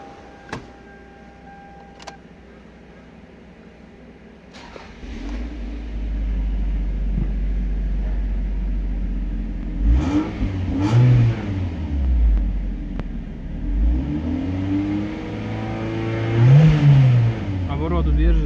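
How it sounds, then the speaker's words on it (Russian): A 1996 Toyota Caldina with a 3S-GE engine is started; after a brief crank it catches and settles into a loud, steady idle, then is revved twice with rising and falling engine pitch. A voice speaks early on. "Так, запускаем двигатель."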